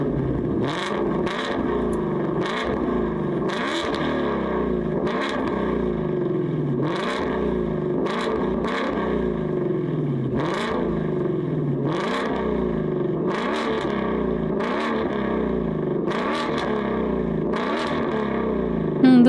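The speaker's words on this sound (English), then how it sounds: "We love the valved exhaust in this house." Ford Mustang GT350 with a valved exhaust in the TDU Solar Crown racing game, revving repeatedly in a steady rhythm of rising and falling bursts, loud and close throughout with no talk.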